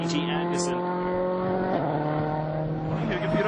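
A WRC rally car on a gravel stage in Bulgaria drones past at sustained engine pitch, with a shift or lift midway and a commentator talking over it.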